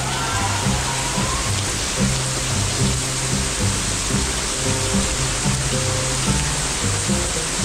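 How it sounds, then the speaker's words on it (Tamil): Heavy rain pours steadily onto a mountain walking path leading to Tirumala, a dense, constant hiss that fills the whole stretch with no break. "நீங்கள் பார்த்தீங்கனாலே தெரியும் எவ்வளோ மழை பெய்யுதுன்ட்டு."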